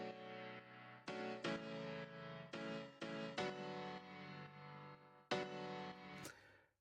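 A soloed piano part in an Ableton mix plays a sequence of sustained chords with clear, evenly spaced attacks and ringing decay, alone with no other instruments or voices.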